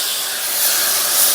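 Soy sauce, three tablespoons of brewed soy, poured into a hot pan of vegetables and chili flakes being stir-fried, giving a steady, loud hissing sizzle that holds throughout without any voices.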